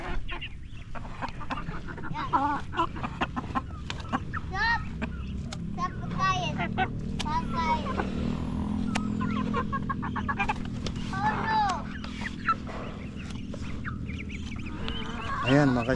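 Native chickens and ducks cluck, squawk and quack at feeding time in a busy, scattered chorus, with voices and rustling in the background.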